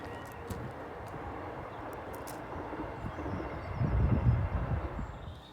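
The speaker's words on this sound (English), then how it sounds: "Train going by down there." A distant train passes in the valley below a hillside caravan site in Belper, Derbyshire, a faint low rumble swelling near the end over quiet outdoor ambience.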